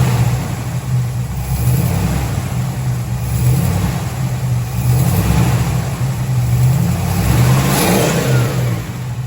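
A 1973 Dodge Challenger big block V8 runs loud and close, holding a steady low rumble with gentle swells in revs, smooth and unbroken from start to finish.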